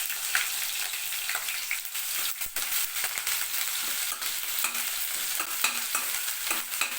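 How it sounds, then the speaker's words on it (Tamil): Ginger, garlic and green chilies frying in oil after whole spices and curry leaves, a dense close sizzle with repeated quick scraping stir strokes throughout, no speech. "இந்த இஞ்சி பூண்டு பச்சை மிளகாயை இந்த எண்ணெயிலே ஃப்ரை பண்ணும்போது"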